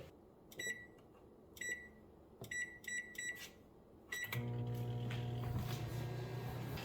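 A series of bright electronic beeps is followed by a microwave oven starting up and running with a steady, low hum.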